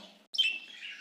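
Rainbow budgerigar parakeets in a breeding setup give a bright, close chirp after a brief soft twitter, with a short pause between them and no voices.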